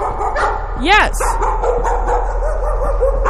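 A dog barks in the horror video game Layers of Fear, with short yips and a whimper standing out around the first second over steady game ambience, while someone talks excitedly and imitates the barking with his own voice.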